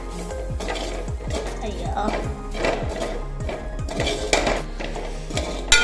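Masala spice being stirred into onions in a pan: steady scraping and clinking of a spoon against metal, repeated rhythmic strokes close by, with a brief voice exclamation.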